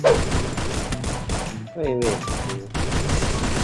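Rapid SMG fire in the shooter game Free Fire, a dense continuous rattle of shots with a brief dip in the middle, loud and close.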